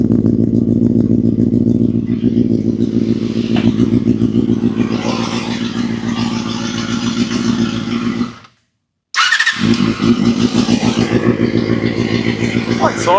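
A Honda CBR250RR MC22 motorcycle engine under restoration, its carburettors clogged with old fuel, runs loudly up close with steady revving and a short cutout before catching again, while people talk over it.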